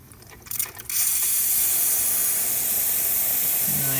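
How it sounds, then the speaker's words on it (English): Steam wand on a Zacconi lever espresso machine bursts into a loud, continuous hiss after a few mechanical clicks, then holds steady and smooth to the end. "Nice soft steam."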